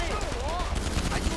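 Rapid gunfire in GTA 5 Online during a gunrunning MC mission: dense, continuous shots and bursts close up, mixed with a voice talking over the shooting.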